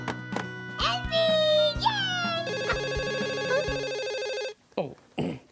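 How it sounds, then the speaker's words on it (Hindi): Expressive voices give way to an electronic telephone ring that trills steadily for about two seconds, then stops as voices return. "ओह, फोन।"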